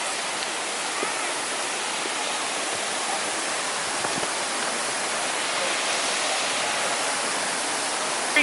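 Alinda Falls, a waterfall near a tiny home, gives off a steady broadband roar of falling water, even and unbroken, heard from fairly close.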